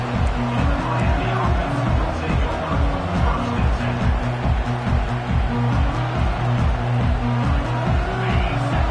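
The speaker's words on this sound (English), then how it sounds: "Listen to the crowd energy here in the early going." A crowd roars steadily in a football stadium during the early going of an Oklahoma game, forming a dense, continuous wall of noise beneath the commentators' voices.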